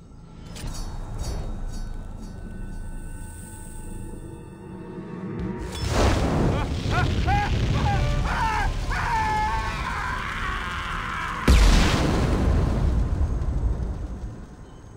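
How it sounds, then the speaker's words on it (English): Booming explosions in Mass Effect 2 erupt in rolling bursts, followed by a whooshing rumble and another heavy blast near the end, with no talking. "don't look at explosions."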